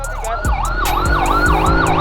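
Ambulance siren wailing in a steady, repeating rise-and-fall pattern, loud and close over rumbling street traffic in the Dangwa area.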